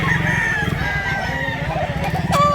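Roosters at a farm in Mantalongon, Barili, Cebu give crowing calls over a noisy backdrop of clucking fowl, with a louder crow close by near the end.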